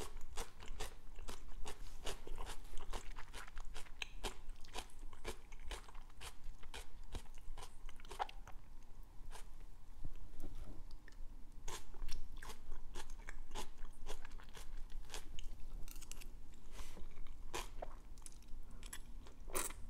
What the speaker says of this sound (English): It's a really chewy noodle.